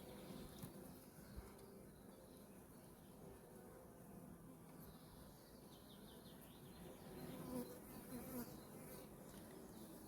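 A dense, continuous buzz of many honeybees close up at an open hive, a steady droning hum with occasional louder passes of individual insects.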